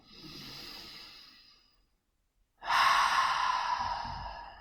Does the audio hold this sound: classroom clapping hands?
no